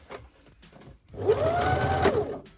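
Sewing machine stitching a cloth face mask: a few soft clicks as the needle is lowered, then a close, even whirring burst of stitching lasting about a second.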